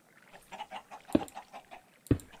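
Chickens cluck in the Minecraft video game, a run of soft rhythmic clucks punctuated by two louder, sharper squawks, close and alone without talk.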